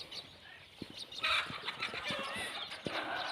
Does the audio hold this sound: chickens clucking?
yes